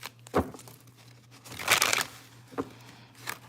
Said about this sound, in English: These my little beat up cards. They damn near hard to shuffle.